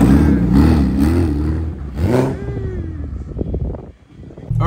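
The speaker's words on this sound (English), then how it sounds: "There's people already burning down, revving and all that stuff." Car engines rev at a street gathering of cars, loud and close. The engine note climbs and falls in pitch, with one sharp rising rev before it trails off into clatter.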